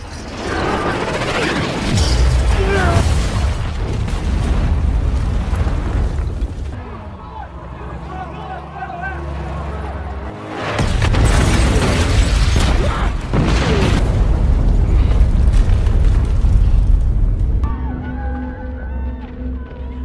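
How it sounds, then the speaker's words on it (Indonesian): A film scene in which a bus evacuating civilians is blown up: heavy booming blasts with roaring, rumbling debris in two loud bursts, separated by a quieter stretch of lower rumble. "bahkan sebuah bis evakuasi warga sipil pun mereka ledakan juga"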